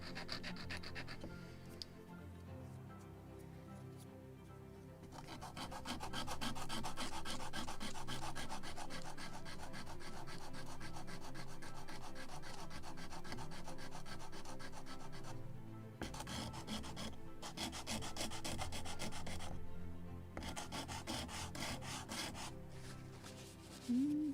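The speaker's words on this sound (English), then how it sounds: "Like this, a little more of sanding." Close, steady rasping strokes of sandpaper on the small wooden rudder of a Model Shipways kit of the 1776 gunboat Philadelphia, continuous rubbing with brief pauses between passes.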